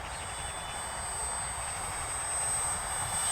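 An E-flite M7 Maule 1.5 m foam RC model airplane drones steadily overhead with a continuous whining electric motor and propeller hum, fairly distant and slowly swelling.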